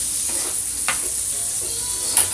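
Wilting greens and potatoes sizzle in butter in a pan as they are stirred, a steady soft frying hiss broken by a few brief scrapes and knocks, close and without speech.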